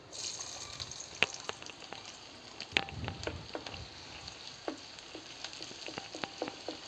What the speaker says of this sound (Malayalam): എണ്ണ ചൂടായി ചെറുവിളി ഇടാം